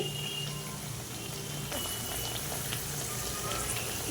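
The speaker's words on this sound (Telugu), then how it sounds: "ఇలా కొంచెం కాలిన తర్వాత ఇంకొక వైపు కూడా తిప్పేసుకొని మంచి కలర్ వచ్చేంత వరకు కాల్చుకోవాలండి." Masala vada fry in hot oil in a pan, a steady bubbling sizzle that stays fairly quiet and continuous throughout.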